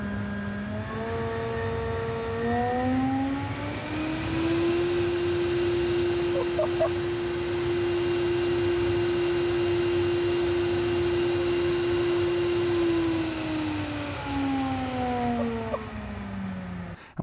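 The downforce fans of a McMurtry Speirling electric fan car spin up with a rising whine, hold a steady loud whir-drone, then wind down, with harmonic tones sliding up and down.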